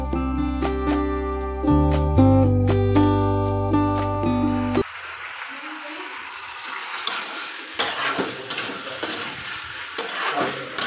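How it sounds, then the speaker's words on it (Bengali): Chicken frying and being stirred with fried spice paste over low heat. It starts with about five seconds of music, then a close, steady sizzle with scraping stirring clatter, and no talking. "মশলাগুলো ভেজে নিয়ে চিকেনটা এখন ভালো করে ধীরে ধীরে আঁচে আমি ভাজা করে নেব"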